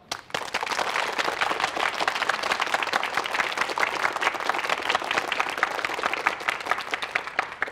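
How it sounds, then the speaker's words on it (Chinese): A room of police officers breaking into warm applause, many hands clapping in a steady, dense patter that swells quickly and holds at a moderate level. "同志们，用热烈的掌声。"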